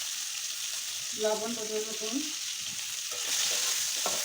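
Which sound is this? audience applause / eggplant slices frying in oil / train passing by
eggplant slices frying in oil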